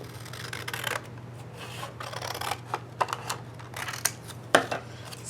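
Scissors cut paper triangles up close: a run of short snipping and rasping strokes, irregular and fairly quiet, with a steady low hum underneath.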